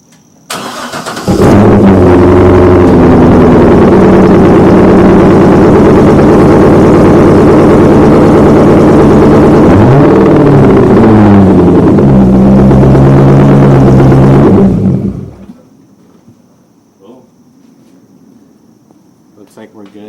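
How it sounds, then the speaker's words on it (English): Corvette C6 engine cranks over and fires up at about 1.5 s, then settles into a loud, steady close-up idle with a brief rev swell near 10 s before shutting off around 15 s, leaving quiet background sounds. "Let's turn the car on. See, I'll let you hear it"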